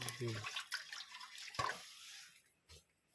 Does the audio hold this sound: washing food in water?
yes